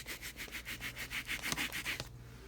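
A rubber stamp is scrubbed on the wet side of a Stampin' Scrub pad in quick rhythmic rubbing strokes, soft and close, stopping abruptly near the end.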